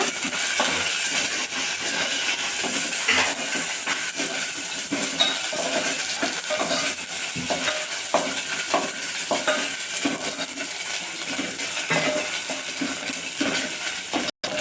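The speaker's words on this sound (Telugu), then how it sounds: "పసుపు వేసుకోవాలి కొంచెం ఇలా వేపుకోవాలండి" Turmeric fries in a hot pan as rasam is started, giving a steady close sizzle and hiss that runs without a break, broken by scraping strokes of a stirring spoon.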